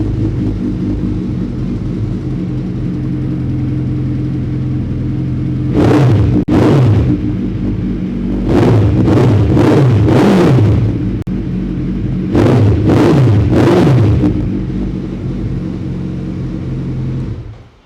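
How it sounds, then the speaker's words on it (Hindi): A superbike with 17,000 km on it idles with a deep, steady rumble, then is revved hard in three clusters of sharp, rising throttle blips before settling back to idle, loud and close. "बिल्कुल शोरूम हिला देने वाली आवाज़ है इस बाइक की।"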